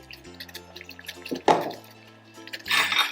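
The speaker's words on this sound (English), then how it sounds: "Now our water has come to a boil." Water at a boil in a pot for millet (jowar) roti, with soft bubbling and dripping sounds plus occasional utensil clinks over a faint tonal background.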